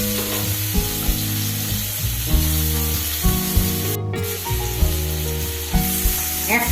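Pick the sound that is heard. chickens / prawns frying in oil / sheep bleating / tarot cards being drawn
prawns frying in oil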